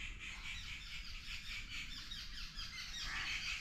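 Many birds chirp and twitter in a steady chorus at a moderate distance, with a faint low background hum and no talking.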